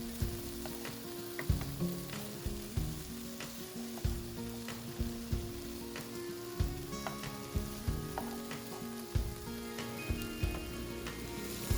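Chicken strips for fajitas sizzle and fry steadily in a pan, with repeated sharp clatters and scrapes of stirring over the continuous crackle; no talking.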